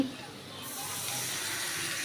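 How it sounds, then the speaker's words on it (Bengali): Water pours into a pot of hilsa fish curry with potato and pointed gourd, a steady broadband splashing hiss that starts abruptly and continues evenly, close and moderately loud. "আর দিয়ে দিব পানি"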